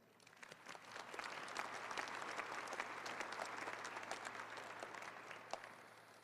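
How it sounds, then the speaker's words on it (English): Sustained audience applause at a university law school commencement, honoring the faculty; dense steady clapping from a large crowd, continuous throughout with no talk. "Another round of applause for this faculty"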